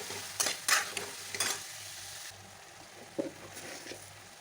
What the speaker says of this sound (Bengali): এঁচোড় আর আলুগুলো সিদ্ধ করে রেখেছি ওই এগুলো দিয়ে দিলাম ভালো করে এটাকে কষে নেবো